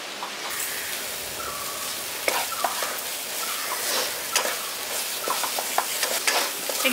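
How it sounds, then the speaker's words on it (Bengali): Sugar and powdered milk mixture being stirred in a pan for a village-style dry sweet, with scraping strokes and soft sizzling, close and steady without talk. "এবার দুধটা দিয়ে দেওয়ার পর ভালো করে এবার এটাকে মেশাতে থাকছি"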